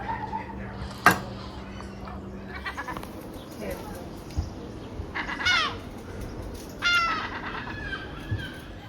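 Seagulls in a residential cul-de-sac give a few scattered, moderately distant cries, with two clearer calls near the middle and the end, over a low outdoor background hum.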